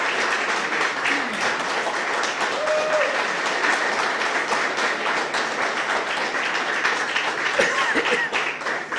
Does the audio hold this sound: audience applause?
yes